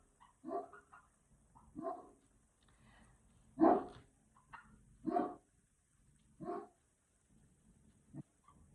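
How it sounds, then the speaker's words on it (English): A dog barks repeatedly outdoors in separate loud bursts spaced a second or so apart, some sharper and closer than others, with quiet gaps between. "Sorry about my dog barking."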